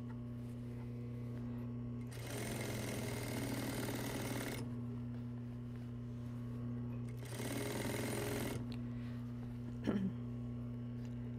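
A sewing machine stitches a skirt seam in two sustained bursts of steady, fast needle whirring, each lasting about two seconds, over a constant low motor hum, followed by a single brief clack.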